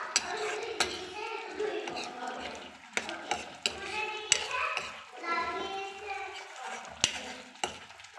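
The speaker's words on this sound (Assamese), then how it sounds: "এবাৰ ভালকৈ লৰাই লৈছোঁ।" Boiled paneer and peas stirred in a pan, a spatula scraping and knocking against the metal with soft sizzling, close by, while voices, including a child's, talk over it.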